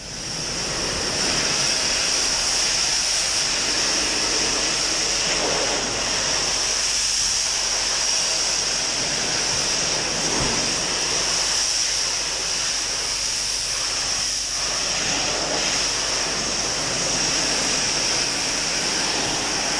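A pressure washer sprays the gable cladding of a residential house in Melbourne during an exterior facade clean, producing a loud, steady rushing hiss of water that runs unbroken for the whole stretch with no talking.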